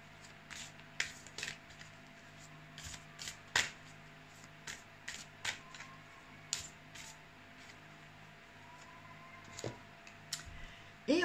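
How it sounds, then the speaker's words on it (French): Angel-of-love oracle cards are shuffled and drawn, giving a run of crisp, close papery flicks and taps in uneven bursts over a faint steady background hum, with no talking. "Maintenant, on va tirer une petite carte"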